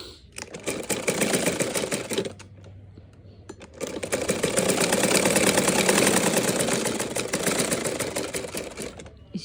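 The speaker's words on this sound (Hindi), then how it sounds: "इसको बराबर रखना है ऐसे और किनारे पे ही सिलाई लगाना" Sewing machine stitching along the edge of fabric, a close rapid mechanical clatter running in two long bursts separated by a short pause, with faint talk in the background.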